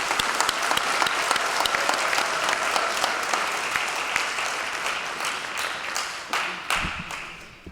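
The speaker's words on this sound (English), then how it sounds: "Can we have another round of applause for Joseph Bernardo and Gitana Carcamo-Guillory?" A crowd at a high school graduation applauds two students, a dense wash of clapping with a few sharper individual claps standing out near the end as it thins.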